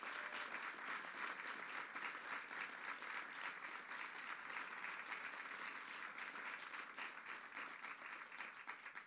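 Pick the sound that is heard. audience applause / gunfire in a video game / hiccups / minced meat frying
audience applause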